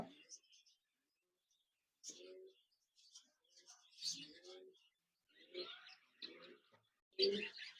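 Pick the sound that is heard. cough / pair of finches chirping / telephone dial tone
pair of finches chirping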